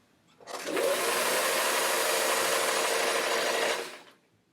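A sewing machine stitches a seam through fabric with fusible interfacing, a steady whirring run of about three and a half seconds that starts and stops cleanly, close and moderately loud.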